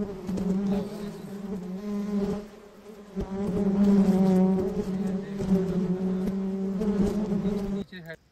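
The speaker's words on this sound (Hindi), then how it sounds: "मैं आपको दिखा रहा हूं किस प्रकार से ये मधुमक्खियां अंदर जाने का प्रयास कर रही हैं" A large swarm of honeybees in the mountains buzzes loudly and continuously, a dense droning hum that swells and dips as the bees try to get inside their hive or box, close by.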